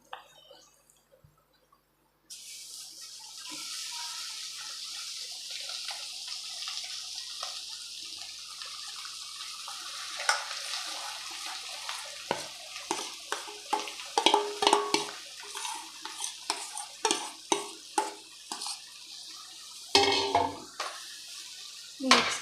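Mashed potato stirred into a frying pan for dabeli, giving soft scraping and stirring noises with rising spoon-on-pan knocks and clatters near the end, close and moderate in level.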